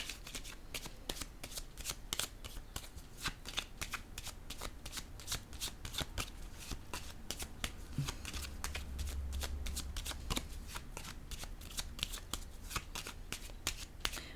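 Tarot cards are shuffled over and over in rapid crisp riffles and taps, close up and fairly soft, with a card laid down partway through.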